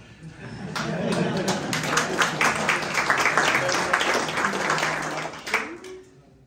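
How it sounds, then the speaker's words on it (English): A crowd at a rally club awards ceremony applauds steadily for several seconds, a dense wash of clapping that swells and then fades out, with voices mixed in. "you got to give Eric extra applause"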